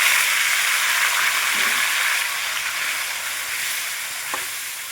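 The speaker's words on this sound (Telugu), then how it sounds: "జీలకర్ర ఫ్రై అయిన తర్వాత ముందే కట్ చేసి పెట్టుకున్న టొమాటోలను వేసుకోవాలి" Chopped tomatoes hit hot oil with fried cumin seeds and sizzle in a steady, loud broadband hiss that eases slightly over a few seconds, with a faint stir or clink near the end.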